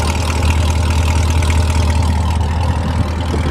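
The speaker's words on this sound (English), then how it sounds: "Hear that exhaust one more time." A Corvette Z06 idles loudly up close, its exhaust giving a deep, steady rumble that holds an even, throbbing tone from start to finish with no talking.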